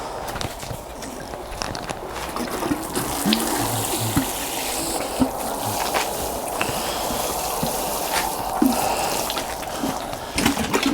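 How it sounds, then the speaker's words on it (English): Water splashes and trickles onto plants in a vegetable garden during a quick watering, a steady close pattering with a few scattered knocks and no talk. "Just remains really, give it a quick water."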